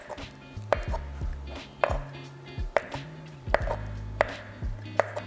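Knife slicing geoduck clam on a cutting board, a series of about eight sharp, close chopping knocks at an uneven steady pace, with soft handling sounds between cuts and no talk.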